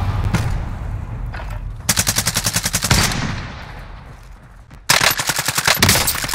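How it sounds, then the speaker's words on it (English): Enemy automatic gunfire in Call of Duty: Warzone rattles out in two loud, rapid bursts separated by a quieter stretch, with sharp repeated shots close by. "they're shooting me through the wall"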